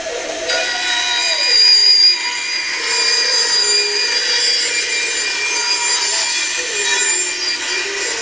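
A Delta bandsaw cuts a circle in a wooden board on a circle-cutting jig, a steady, loud rasping whine that holds for several seconds, its pitch shifting slightly as the cut progresses, with no talking.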